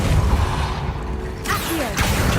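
Hogwarts Legacy spellcasting on hard mode: a burst of magical whooshes and crashing impacts, with a sharp swishing zap near the middle and another bright burst toward the end over a busy low rumble.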